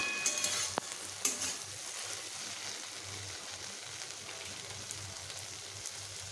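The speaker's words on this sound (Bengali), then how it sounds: "এবার ঢ্যাঁড়সগুলোকে এইভাবে একটু নেড়ে নিচ্ছি" Okra and green chillies frying in a pan, a soft continuous sizzle with a few stirring scrapes and clicks at the start, fairly quiet and close.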